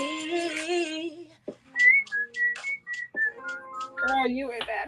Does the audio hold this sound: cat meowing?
no